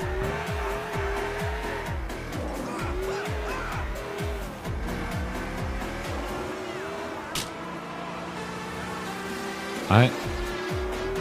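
A car in GTA IV revs hard through repeated gear shifts, engine roaring steadily close up, with a sharp tire squeal near the end as someone talks over it.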